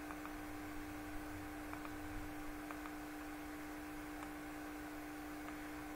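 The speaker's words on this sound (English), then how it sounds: "Yeah, the hum is still there." A low, steady electrical hum fills an empty office, faint and constant for the whole stretch, with a few soft ticks and a hiss of background noise, no voices.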